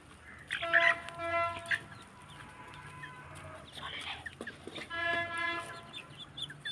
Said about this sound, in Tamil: இது வந்து நாட்டுக்கோழி, நல்லா வெயிட் ஆக்குது.